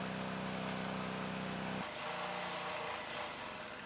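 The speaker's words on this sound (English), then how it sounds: "this is how the engine sounded at the start of the test." A Predator small gasoline engine runs steadily at close range during an oil additive test, giving a loud, continuous buzzing drone. Its pitch and character shift partway through, with no voices.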